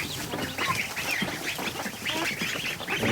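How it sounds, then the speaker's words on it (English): Ducks quacking inside a barn where newly hatched ducklings have been moved, a run of repeated nasal quacks at close range with no talk. "there's a midget duck back there getting mauled by his little babies"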